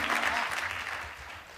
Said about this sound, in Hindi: एक बार जोरदार तालियों से समर्थन करिए